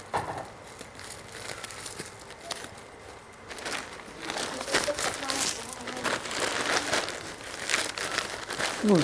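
Plastic packaging around a women's sarong is unwrapped, crinkling and rustling in irregular bursts that grow louder toward the end, with people talking over it.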